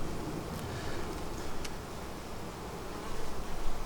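Honey bees buzz all around an open hive during a frame inspection, a dense, steady drone heard close by that swells slightly toward the end, with no speech.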